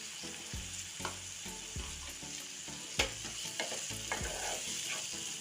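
Three medium ground tomatoes with salt fry in a pan for restaurant-style cashew curry, giving a steady close sizzle broken by periodic stirring scrapes.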